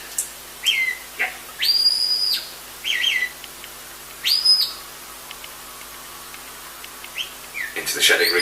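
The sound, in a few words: shepherd whistling to sheepdog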